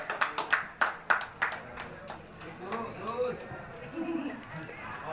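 Audience at a poetry reading clapping after the poem, a few sharp scattered claps at the start that thin out into quieter room murmur and movement.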